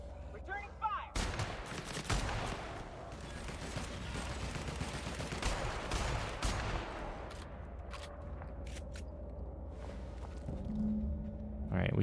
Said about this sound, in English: That's how we roll with these sniper rifles.